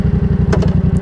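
A Yamaha YZF-R7 motorcycle engine running close and loud, a steady rapid pulsing thrum with even beats, with no voices over it.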